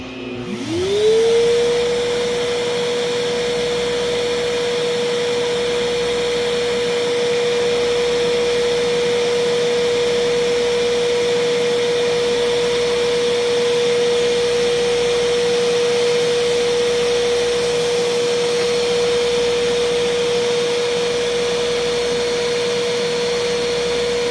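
A Vortech Force XR3000 electric blower runs at max power with its nozzle off, spinning up quickly into a loud, steady whine and rushing roar that holds unbroken for over twenty seconds with no talking.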